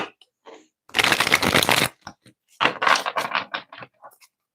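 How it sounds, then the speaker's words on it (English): A deck of cards being shuffled, two crisp riffling bursts close up, the first about a second long and the second broken into rapid flutters, with brief pauses between. "Give me another shuffle."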